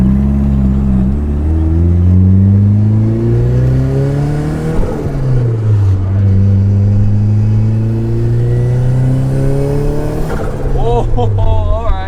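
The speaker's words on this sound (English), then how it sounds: "having an open wastegate should basically allow the wastegate spring into the turbo to stay shut, which means my car will push as much boost as it can possibly make" A turbocharged car engine with its wastegate held open revs repeatedly under load, loud and close, rising and falling through several long pulls, with a whistling whoosh near the end.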